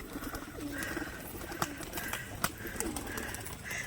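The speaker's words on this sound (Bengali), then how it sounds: "কিছু পায়রা এখানে আছে, এই যে পায়রা সবই খাওয়াই ব্যস্ত" Pigeons busy feeding, giving soft, repeated cooing calls close by over a continuous background hiss, with a few sharp clicks or taps scattered between the coos.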